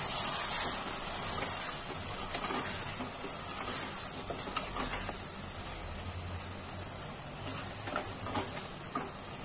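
Paneer being stir-fried in a kadhai gives a steady soft sizzle and hiss throughout, with faint intermittent scraping of a spoon, all at moderate level and with no talking.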